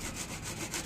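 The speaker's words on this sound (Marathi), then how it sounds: "सगळ्या बॉटलला इथूनच कट करायचं" A small bottle being cut through: a brief, close, rasping sawing stroke that lasts under a second, with no speech.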